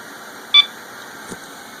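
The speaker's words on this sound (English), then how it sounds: "then it'll beep when it's on." One short, clean electronic beep from a server powering up and posting rings out over a steady fan-like hum, followed by a faint soft click.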